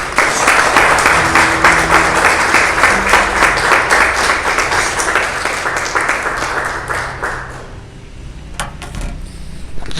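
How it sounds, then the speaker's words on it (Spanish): A church congregation breaks into loud, energetic applause after a sermon, dense clapping that swells and then fades out, leaving scattered last claps near the end. "Denle un fuerte aplauso."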